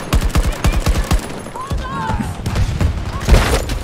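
Battlefield 2042 combat: a rapid string of close gunshots followed by scattered blasts and a grenade explosion, with voices talking over the chaos.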